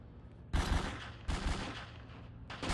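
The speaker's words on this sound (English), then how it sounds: "You're getting shot now." Gunfire in a role-play video game comes in three sharp bursts of rapid shots, loud and close, with a steady background rumble between them.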